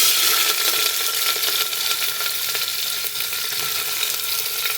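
Onion dropped into about two ladles of oil heated over a medium gas flame, giving a loud, dense, continuous sizzle that holds steady from start to finish with no voices.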